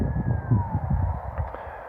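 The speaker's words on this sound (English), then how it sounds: "the sirens wheel away to our right across towards Newcastle" Distant emergency sirens wail faintly across a cricket ground, drifting away toward Newcastle, a thin gliding tone over low outdoor rumble.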